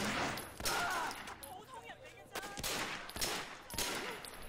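Several sharp bursts of gunfire in the Sleeping Dogs video game crack out at irregular intervals, fairly quiet, with a person talking between and over the shots.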